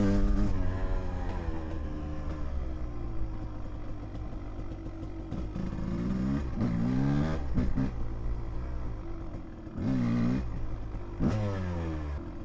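A 1993 Suzuki RMX 250 two-stroke dirt bike fitted with a new clutch, its engine running steadily close by, then revving in several sharp blips toward the end, with no talk.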